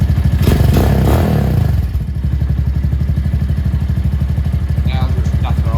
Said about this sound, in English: This one's idling perfectly now.